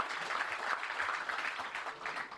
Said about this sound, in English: A huge round of applause for our colleagues from Netflix and Airbnb who are here.